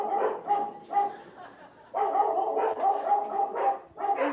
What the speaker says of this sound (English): Is that your dog, Dr. Schwartz?